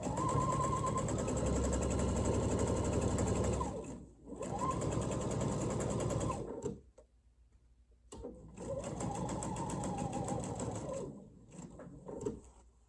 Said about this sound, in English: Sew to that 1/4 inch, lift my foot, pivot, and off we go to the races.